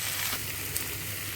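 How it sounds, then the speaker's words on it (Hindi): Chicken coated in masala fries on a high flame for a methi chicken dish, giving a steady, even sizzle close by with no talk. "चिकन को हाई फ्लेम पर 2-3 मिनट तक भूनेंगे।"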